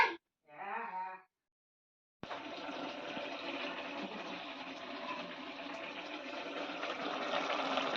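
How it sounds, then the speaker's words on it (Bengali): A banana flower boils in a pot on a home stove, making a steady, soft bubbling and rushing water sound that follows a brief vocal sound and a short pause. "এখানে কলার মোচা সিদ্ধ বসিয়ে দিয়েছি"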